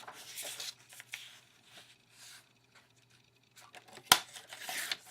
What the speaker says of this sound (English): let's cut this down to 4 by 5 1/4